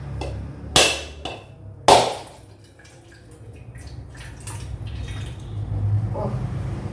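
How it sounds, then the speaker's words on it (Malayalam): A coconut is cracked in a home kitchen with two sharp, loud knocks close by, followed by trickling water and low kitchen noise. "ഇനി തേങ്ങ പൊട്ടിക്കട്ടെ."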